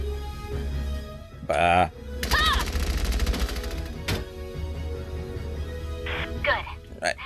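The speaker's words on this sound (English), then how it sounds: "The enemy's firing back!" Enemy gunfire in the video game Valkyria Chronicles 4, bursts of rapid rattling machine-gun fire and sharp single shots amid battle noise, with brief grunts from a voice.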